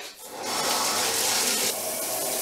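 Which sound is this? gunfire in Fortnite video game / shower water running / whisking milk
shower water running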